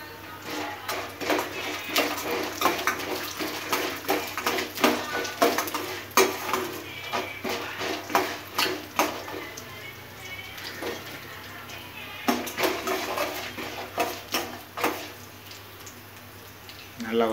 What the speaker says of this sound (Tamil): வேர்க்கடலை எடுத்து வச்சுருக்கோம், அதையும் போட்டு வறுத்துப்போம்.